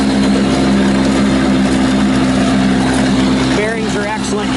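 A tractor engine runs steadily, driving a 2020 Land Pride RTR0550 rotary tiller, giving a loud, constant low drone with a whining mechanical tone from the spinning tiller, and a voice briefly heard near the end.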